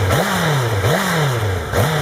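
A Honda CBR1000RR Fireblade with its stock exhaust revs up and back down three times in a row, the engine note rising and falling close by with no voices.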